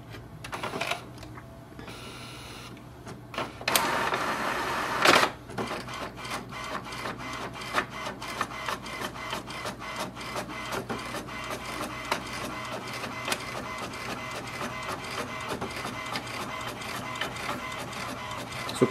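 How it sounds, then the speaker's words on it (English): An HP Envy 6555e inkjet printer printing a welcome page, with a burst of loud mechanical whirring early on, then a steady rapid ticking and clicking of the print carriage running on close by with no talking. "Let's print the welcome page so we can print it."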